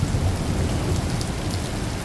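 Steady heavy rain pouring outdoors during a thunderstorm with a low rumble of thunder, a dense continuous wash of sound with no voices.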